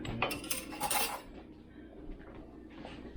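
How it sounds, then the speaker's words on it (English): A spoon clinks and scrapes against a pot while stirring Romesco soup, a burst of metallic rattles up front that fades to softer scraping and ends in a knock, no voices. "Give that a good stir."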